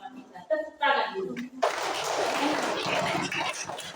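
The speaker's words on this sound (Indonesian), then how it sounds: "Tepuk tangan dulu." A voice speaks briefly, then a burst of applause breaks out from a crowd and continues steadily for a couple of seconds.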